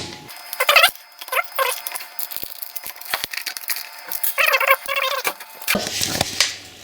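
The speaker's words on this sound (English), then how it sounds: "just tightening up the 4 screws here" Torque screws being tightened on the guard of a Milwaukee M18 Fuel strimmer, a scattering of close, small metallic clicks, ticks and scrapes in irregular bursts against near silence.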